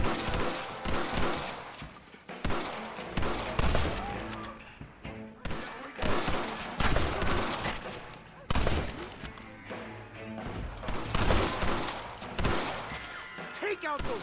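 Sustained shootout gunfire from Red Dead Redemption, with dense volleys of rifle and revolver shots crackling in loud bursts across the whole stretch, mixed with shouting voices.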